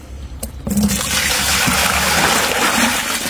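Water poured from an 11-litre watering can into a container while preparing homemade olives, a steady close trickle and splash that runs continuously after a brief knock at the start.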